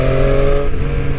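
A 2019 Triumph Street Triple RS triple-cylinder motorcycle engine pulls steadily in sixth gear under light throttle, a smooth continuous drone with a stable tone heard close for about a second.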